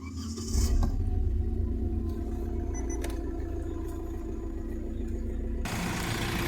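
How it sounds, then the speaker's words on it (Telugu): Diesel Hyundai i20 Asta from 2018 idling, a steady low engine hum with a faint click near the start, evenly sustained and without speech. "ఇంజన్ సౌండ్ మాత్రం ఇట్లా ఉందండి, స్మూతే ఉంది"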